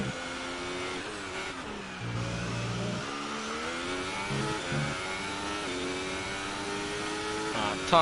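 A Formula 1 car engine in a racing game at the French Grand Prix, a high mechanical whine that climbs and drops with shifts and keeps going under game sound.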